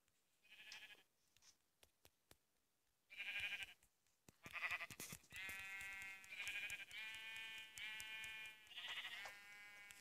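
Sheep in the game Minecraft bleat in several separate calls, loud and close, with soft clicks and small game noises between them and no talk.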